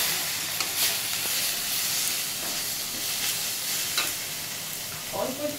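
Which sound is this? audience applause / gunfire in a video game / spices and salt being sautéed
spices and salt being sautéed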